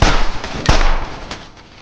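Two sharp, booming gunshots in a film ring out about half a second apart, each followed by a rolling echo that decays into the background.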